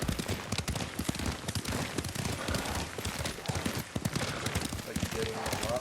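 Hooves of a horse ridden in the samurai video game Ghost of Tsushima clop in a quick, steady rhythm throughout, close and fairly loud, while characters converse over the galloping.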